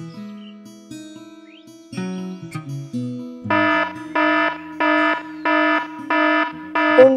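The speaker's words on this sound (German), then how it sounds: "Irgendwann klingelt dann aber auch mein Wecker" An alarm clock ringing in the morning: after a few soft preceding tones, a loud electronic alarm pulses in six regular bursts, close and alone.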